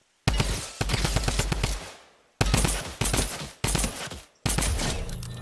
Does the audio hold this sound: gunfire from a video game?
yes